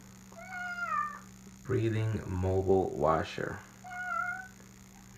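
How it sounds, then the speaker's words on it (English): Cat meowing indoors, a few drawn-out meows near the start and end around a stretch of voices talking, over a steady low mechanical hum. "That's my cat."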